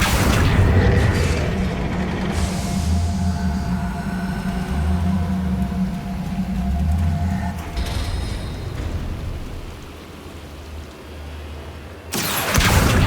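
Incendio and Accio spells go off in the Hogwarts Legacy video game as booming bursts, whooshes and rumbling magical impacts, loud and layered, ending in a sharp blast.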